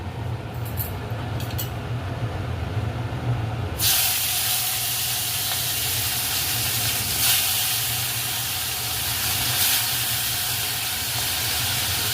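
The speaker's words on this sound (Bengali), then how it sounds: "কড়াইতে তেল গরম করতে দিয়ে দেওয়া হয়েছিল এবার ল্যাঠা মাছগুলি এক এক করে ভেজে নেওয়া হবে" A loud, steady sizzling hiss erupts suddenly as snakehead (lata) fish go into hot oil in a kadai, then keeps crackling and spitting evenly for several seconds.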